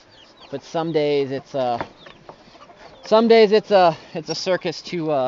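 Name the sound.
chickens clucking on a farm at the barn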